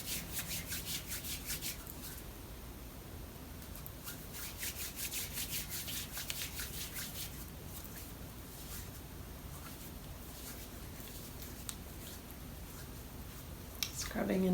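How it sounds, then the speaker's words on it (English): Palms of the hands scrubbed together in a steady, continuous rubbing with firm pressure, faint and close, with soft pulsing strokes over a quiet background. "Scrubbing palms together."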